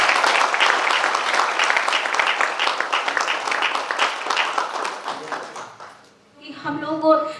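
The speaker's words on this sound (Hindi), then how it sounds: "एक बार मनोज सर के लिए जोरदार ताली होनी चाहिए" Loud, dense audience applause at a business programme in Varanasi, sustained for about six seconds before fading, with a voice rising briefly at the end.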